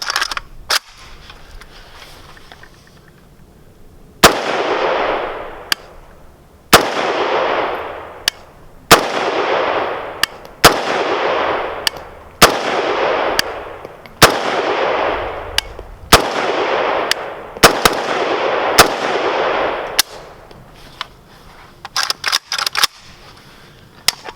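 A Zastava N-PAP rifle is fired at an outdoor range in about a dozen loud, sharp single shots, each spaced a second or two apart with a ringing echo tail. A quick cluster of softer clicks and pops follows at the end.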